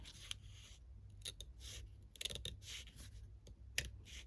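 Scissors snipping through paper while cutting out a junk journal envelope, a series of quiet, close crisp cuts and rustles with short pauses between them, no talking.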